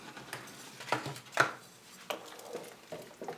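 Carrots chopped into big chunks on a cutting board, a few uneven knife thunks spaced irregularly, quiet and close.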